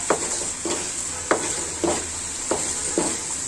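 Beef pieces with fat attached are stirred and scraped in a frying pan over a steady sizzle, a spatula scraping the bottom in six evenly spaced strokes, close and clear with no talking.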